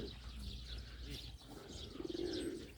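Birds coo and chirp faintly amid a busy, noisy background in Mongolia, with a low pigeon-like coo rising near the end.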